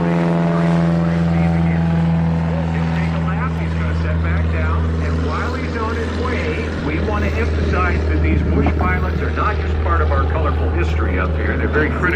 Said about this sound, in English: the only way in or out is a little plane like that on skis